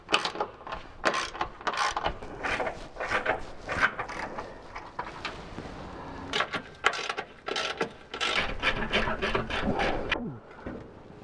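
A ratchet and sockets work loose the stock skid plate under a 3rd gen Toyota Tacoma, giving dense bursts of quick metallic clicking and clattering in uneven runs, up close and without talk.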